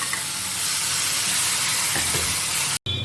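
Bottle gourd chutney sizzles as it is stirred into hot tempering in a pan with the stove off, a steady close hiss and crackle lasting a few seconds and cutting out abruptly near the end.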